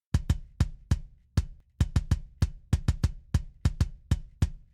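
Sampled kick drum layered with an added sub, from a Tama Star Classic kit, mixed for emo and pop punk: about sixteen sharp, punchy hits in a steady pattern with a booming low tail, loud and alone.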